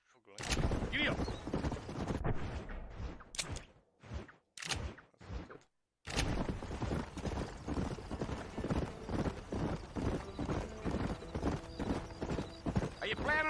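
Horse hooves clip-clopping at a gallop in the Western video game Red Dead Redemption, loud rapid rhythmic beats that stop briefly, then resume steadily, with a short shout and game sounds mixed in.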